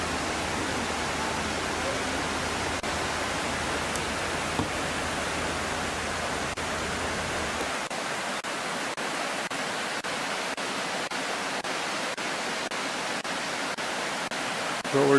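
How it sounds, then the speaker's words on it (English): A stream flows beside a campsite as a steady broad rush of water, constant and fairly loud throughout, with a low engine hum underneath that stops partway and a few faint clicks. "I have a little noise of the stream all night."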